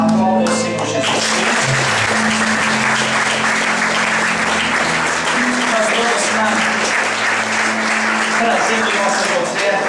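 A church congregation claps loudly and continuously in praise, a dense sustained burst of applause with music and a voice over it.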